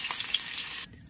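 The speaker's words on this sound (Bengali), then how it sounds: "বাকি যে চিকেনগুলো আছে সেগুলোকেও আমি একে একে ভেজে নেব।" Chicken pieces frying in hot oil in a home kitchen for restaurant-style chilli chicken, a steady bright sizzle that cuts off abruptly near the end, close and loud.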